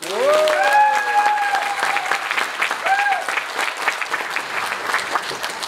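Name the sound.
audience applause at a party ceremony opening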